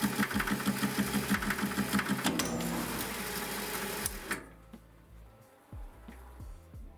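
A T-150 tractor carburetor clamped in a lathe chuck is machined with a cutting tool, giving a fast rhythmic mechanical chatter that breaks off abruptly, followed by quieter whirring and a few soft knocks.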